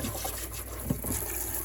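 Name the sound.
rinsing periwinkles under water in a sink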